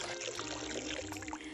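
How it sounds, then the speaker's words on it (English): Chicken stock being poured over dry couscous in a large bowl, a steady close liquid pour lasting the whole moment with no talking. "I'm going to pour the stock over the couscous in a large bowl."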